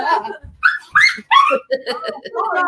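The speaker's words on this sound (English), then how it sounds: "Apparently on his way to save the world, he stepped on the dog." A dog in the video game Isle Of Science whimpers and yelps after being stepped on, a run of short, high, whining cries in quick succession, loud and close.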